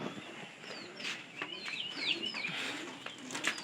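A pair of pigeons coo softly nearby, their calls repeating in an unhurried rhythm against a quiet background with a few faint chirps.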